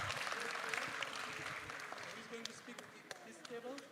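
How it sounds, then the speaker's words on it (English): Audience at a regional symposium clapping, a brief moderate round of applause that thins out toward the end, with talk over it. "Big applause."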